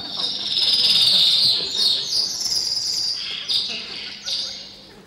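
A human voice whistles high, quick chirps and trills imitating a small Black Forest bird, in short bursts with brief pauses between them.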